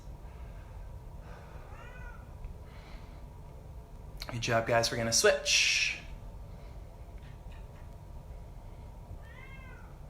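A house cat meows at a door indoors during a group exercise class, with faint repeated meows coming from farther away beneath an instructor's steady talking.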